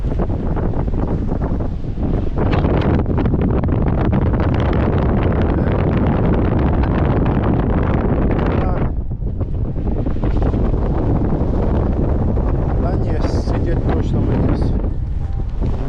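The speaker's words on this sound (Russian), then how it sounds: "ветер дует в спину прям. Но он теплый, но все равно дует подлюка." Warm wind blows hard on the Crimean coast near Koktebel, roaring and buffeting the microphone almost nonstop, briefly easing around the middle, with surf faintly underneath.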